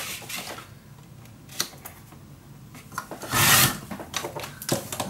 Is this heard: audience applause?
no